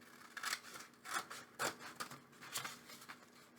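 Scissors cut through fabric pattern material for a mini towel dress, giving a series of about five crisp, close snipping strokes in an uneven rhythm, fairly quiet and without talk.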